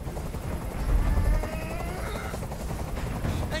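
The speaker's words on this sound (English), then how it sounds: "I can't stand that noise anymore. Tell that helicopter to get out of here." Steady helicopter noise hovers close by, a broad low rumble with rotor thumping that holds at even loudness throughout, with no talk over it.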